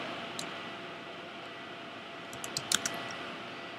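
Computer keyboard keys tapped while entering router commands, a short cluster of crisp clicks near the end over a low steady fan hiss, fairly quiet and close.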